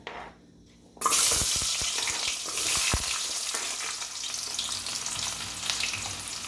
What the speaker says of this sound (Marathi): कांदा परतून घेऊया मस्त